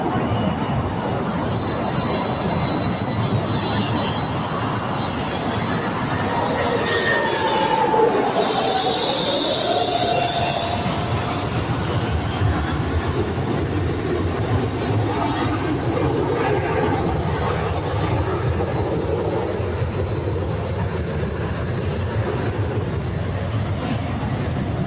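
A heavy jet airliner departs runway 24 left at LAX, rising to a loud roaring whoosh with a descending whine at its peak before settling into a broad, sustained rumble from the distance, over steady outdoor airport background noise.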